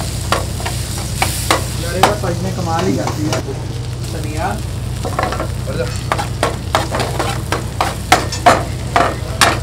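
Cumin seeds hit hot homemade butter at a dhaba and crackle in a close, busy sizzle, with sharp stirring clinks. A steady low hum runs underneath, and a voice briefly speaks over it.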